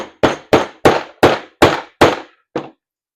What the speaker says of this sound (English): smack that down flush.